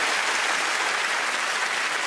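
Studio audience applause at a comedy panel game show, a brief burst of dense, even clapping from a crowd, moderately loud and continuous with no talk over it.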